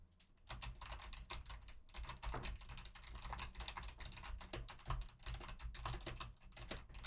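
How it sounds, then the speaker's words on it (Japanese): Steady clattering of computer keys being typed, fast and continuous with a brief pause at the start, close and fairly even, picked up by a FIFINE K688 microphone. "キーボード音がね、どこまで入るかっていうところをチェックしていきたいと思います"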